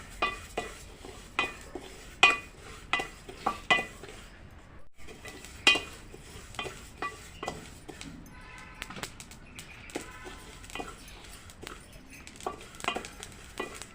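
Sesame seeds, about a quarter kilo, dry-roast in a pan over a low flame for flax seed laddu, with sharp, irregular scrapes and clinks of a spatula stirring against the metal over a soft, steady rustle.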